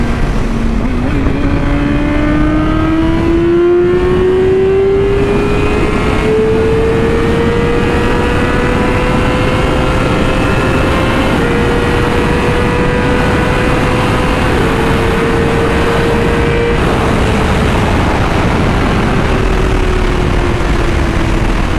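Yamaha R6 sport motorcycle engine rising steadily in pitch as it revs while being ridden in hot traffic, loud and continuous with a few brief gear-change dips, wind noise underneath.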